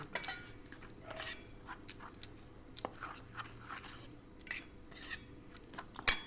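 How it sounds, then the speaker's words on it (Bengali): Gram flour and rice flour being mixed into a batter with a spoon in a bowl, producing repeated clinks and scrapes of utensil against the dish, with a sharp knock near the end and no talk. "যতখানি বেসন নিয়েছি তার থেকে একটু কম আমি চালের গুঁড়ো দিই এবার এটাকে ভালো করে মিশিয়ে নিতে হবে"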